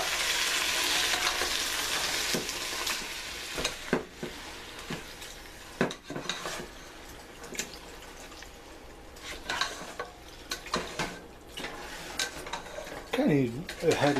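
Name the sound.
stirring sausage stew in pan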